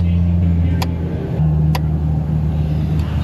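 A car's AC compressor clutch engaging, sharp clicks standing out over a steady running engine idle nearby.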